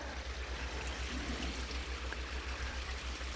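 Creek water flowing in a steady, soft rushing trickle, faint and continuous with no voices.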